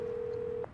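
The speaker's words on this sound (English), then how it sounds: "Getting a phone call." A short electronic phone tone sounds in the video game Watch Dogs, a single steady pitched beep cut off abruptly, clear and alone with no talking.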